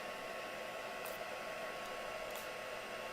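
A hair dryer–style heat tool blows steadily over diluted white spray paint during a mixed-media art demo, a continuous even whoosh lasting throughout with no talking.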